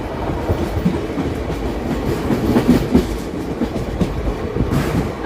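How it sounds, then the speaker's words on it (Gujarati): A train rolls into the outer approach of Maliya Miyana junction, its wagons rumbling steadily with rhythmic clickety-clack from the wheels as it slows, the low rail noise continuous throughout. "આપણી ટ્રેન સ્લો ડાઉન થઈ ગઈ છે"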